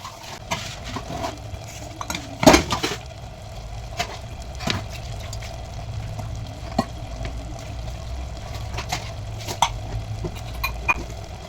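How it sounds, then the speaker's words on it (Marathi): Dirty leftover dishes being scrubbed and washed at home, close clinks and clatters of metal utensils with one louder clang, over a low steady background and no talk. "थोडी कणी भांडी पडलेली आहेत खरकटी, ती घासायची."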